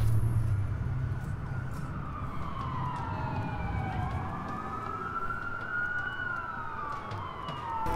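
Police sirens wail continuously during a city blackout in the Watch Dogs video game, several overlapping tones rising and falling at moderate distance over steady traffic rumble, with no talk.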